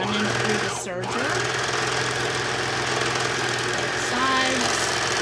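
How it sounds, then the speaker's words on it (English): A serger overlocker stitches Velcro in place, its motor whirring in a steady, fast mechanical chatter throughout, close and even in level. "So I'm holding mine down, running through the serger."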